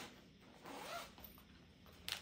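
A zipper runs on a bag bought as knitting supplies, making a faint, close scratchy rasp in a couple of short pulls with a sharper burst at the end.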